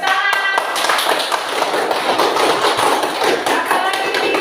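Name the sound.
clapping hands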